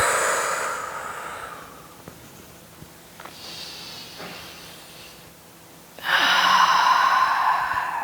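A long, soft breath out through the nose or mouth during a yoga exercise, a close airy rush that fades, followed by quiet and then another strong breath.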